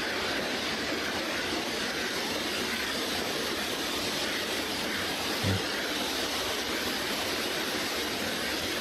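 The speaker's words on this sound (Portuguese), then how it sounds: "Tô ouvindo barulho de água, mas não tô ouvindo água." Steady rushing of running water fills the scene in The Long Dark, a survival video game, a constant broadband wash at even level throughout with a single soft thump midway.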